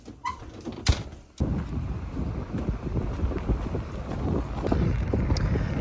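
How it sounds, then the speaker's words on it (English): Wind buffets the microphone in steady rough gusts, after a couple of sharp knocks at the start. "Well, the wind is officially back."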